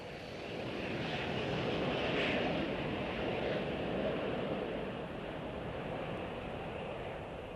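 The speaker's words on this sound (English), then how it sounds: "De Havilland Comet." De Havilland Comet 3B jet airliner engines, a steady broad roar that swells and then holds, heard at a distance with no talk.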